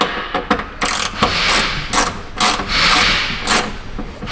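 A socket ratchet snugs a bolt on a junkyard vehicle, producing loud, close bursts of rapid clicking strokes separated by short pauses.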